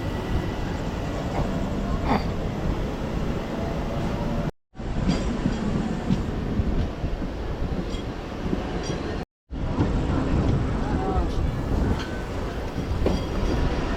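A Narasapur MEMU Express train rumbles steadily along the tracks near Bhimavaram, loud and close, with a constant roar and faint wheel clatter; two brief dropouts break the sound.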